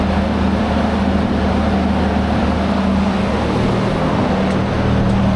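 A car engine drones loud and steady on a dyno, holding a constant high-rpm roar near a 6,000 rpm red line for the whole stretch without letting up.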